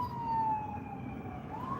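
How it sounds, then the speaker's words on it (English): Ambulance siren wailing in Colorado traffic, one clear rising and falling sweep nearby over a low road rumble, with no one talking. "Look at these cars gonna run into this fucking ambulance."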